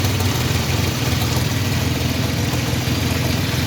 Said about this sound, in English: It does have an engine noise.